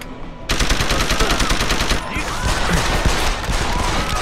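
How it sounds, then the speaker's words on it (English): Rapid automatic gunfire in the video game Deus Ex: Human Revolution erupts after a brief quiet start and rattles on continuously, loud and dense, with a few heavier shots and impacts mixed into the sustained burst. "I just want to take out my gun and just shoot everybody."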